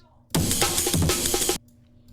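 Unprocessed Amen break drum sample, a short loud burst of sampled breakbeat drums with kicks, snares and cymbal wash, about a second and a quarter long, then cut off to near silence.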